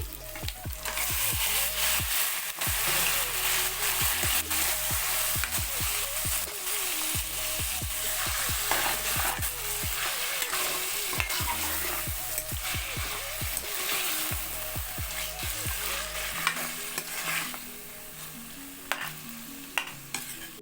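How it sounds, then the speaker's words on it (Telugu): Chicken pieces frying in a pan with homemade ground garam masala of clove and cinnamon for a fenugreek-leaf chicken curry, with a constant loud sizzle and repeated scraping stirs of a spoon against the pan. "ఇంట్లో నేను చికెన్ వేస్తున్నానండి"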